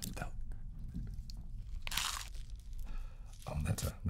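Crunchy bread bitten and chewed close to the microphone, with a few loud crisp crunches and softer chewing between them while people talk over it.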